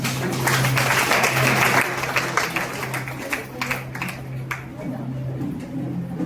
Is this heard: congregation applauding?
yes